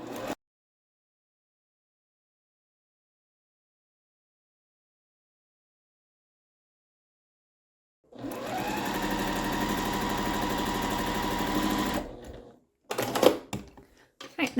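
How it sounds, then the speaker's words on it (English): A sewing machine chain-pieces quilt blocks in one continuous, steady, close whirring run of about four seconds after a long silence, followed by a few short bursts of stitching. "I'll just keep chain piecing them without breaking my threads in between"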